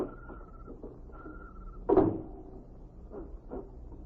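A door opens in a 1950 radio drama, a sharp close thud and creak standing out against a quiet room with faint tones before and after.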